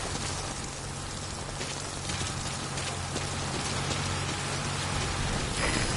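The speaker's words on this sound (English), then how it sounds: "That rain just won't let up." Steady, dense rain in Metal Gear Solid V pours down across the whole stretch, a constant hiss of drops with no voices and a faint low rumble beneath.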